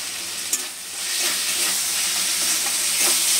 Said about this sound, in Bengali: মাছটা ভালো করে ভেজে নিচ্ছি আগে